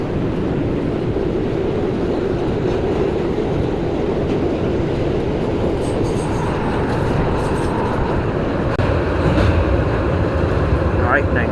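A northbound New York subway B train, an R211A car, running along the line: a loud, steady rumble of wheels and motors heard from inside the car, with faint squeals and rattles toward the end.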